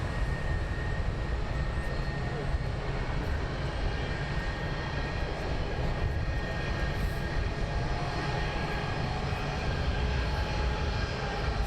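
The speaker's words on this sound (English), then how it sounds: "the one that just pushed back is now taxiing out" A Wizz Air jet taxis out at London Luton Airport, its engines producing a steady, continuous drone at moderate distance with no talk over it.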